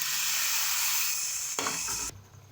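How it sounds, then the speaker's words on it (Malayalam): Fried prawns stirred in a hot pan, a steady loud sizzle and hiss with scraping stir strokes, the frying noise cutting off abruptly near the end. "പൊരിച്ച ചെമ്മീൻ അതിലേക്ക് ഇടുക. അത് നല്ലോണം ഇളക്കുക."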